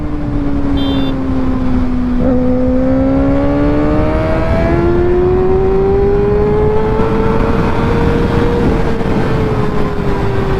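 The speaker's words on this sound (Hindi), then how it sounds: "क्या भाग रही है भाई, क्या ही भाग रही है ये बाइक आज तो" A Kawasaki Ninja ZX6R sport bike pulls hard through the gears, its engine note climbing, dropping at each shift and climbing again. The sound is loud and continuous, close to the rider, with no talk.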